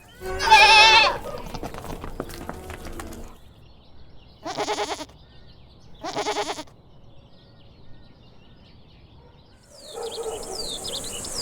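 Goat bleating on a farm, a loud wavering call followed by two shorter bleats a couple of seconds apart, then a higher noisy burst at the end, with quiet gaps between.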